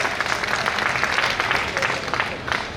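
Audience applause at a public political gathering in Chandauli welcoming local representatives, a steady dense wash of clapping that fills the whole stretch with little variation, with a voice faintly present underneath.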